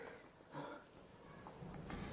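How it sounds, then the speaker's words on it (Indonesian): Steady rain falls outside with a constant hiss, a few soft low rumbles of thunder swelling in the background. "Gue takut banget di luar ada petir yang gede banget, Cik."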